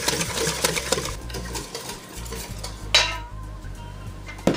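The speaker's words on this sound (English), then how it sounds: "I'm going to just take my whisk and give it a quick beat until everything is incorporated." A whisk beats key lime pie filling of dairy and lime juice in a bowl, giving quick, continuous clinking and scraping strokes at close range, with a brief louder clatter near the end.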